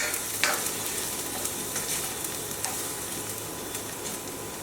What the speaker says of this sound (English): add our garlic. Give this little stir around